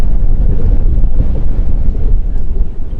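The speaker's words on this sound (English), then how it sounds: "The wind's starting to pick up a little bit." Strong wind buffeting a microphone aboard a boat cruising the US Virgin Islands, a loud, rumbling, gusty roar filling the whole stretch.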